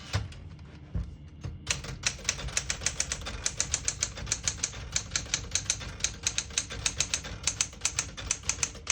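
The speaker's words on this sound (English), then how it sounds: "Very nice, well manufactured, well engineered typewriter." A 1969 Smith-Corona Classic 12 portable manual typewriter types steadily, its sharp key strikes landing in a quick, even rhythm, close and clear against a quiet room.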